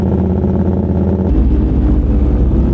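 Motorcycle engine running loud and close during a group ride alongside BMW motorcycles, a steady rough drone that drops into a deeper, heavier rumble partway through, with no talking.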